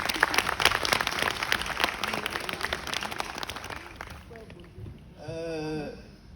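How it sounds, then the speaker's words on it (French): An audience at a spoken-word performance breaks into brisk, crackling applause that tapers off after about four seconds, followed by a brief tonal vocal sound. "Allez-y, applaudissez."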